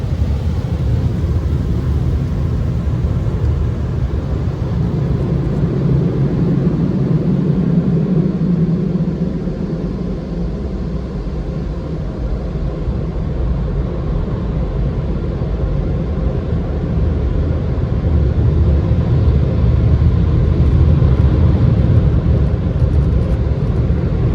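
Car wash dryers blowing as a steady, loud, broadband roar that holds without pause, swelling slightly toward the end.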